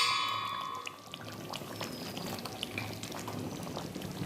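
Rose water poured into a simmering chicken chaap gravy: a short liquid pour at the start, followed by a soft, steady bubbling and sizzling close by.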